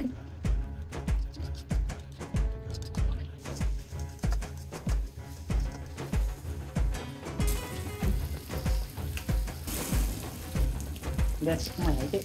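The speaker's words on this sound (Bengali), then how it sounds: "এখন দিয়ে দিচ্ছি মশলা। এটাকে একটু ভালো করে কষিয়ে নেব" Spices for chicken biryani fry and get stirred in a pan, a soft sizzle with repeated rhythmic scrapes and knocks of the spatula, with a background hiss rising in the second half.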